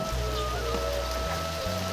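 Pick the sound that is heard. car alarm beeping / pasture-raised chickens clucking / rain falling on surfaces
rain falling on surfaces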